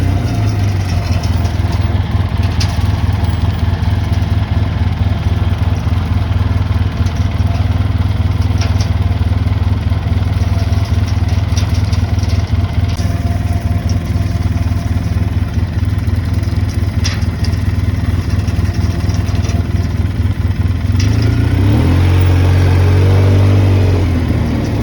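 A tractor engine running steadily with a bush hog mower attached, a loud continuous low drone throughout, with a shift in pitch near the end as the load or throttle changes.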